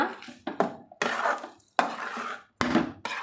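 A spoon scrapes and clatters in bursts against a pan while flour dough for spicy kozhukattai is stirred and heated, loud close strokes separated by short pauses.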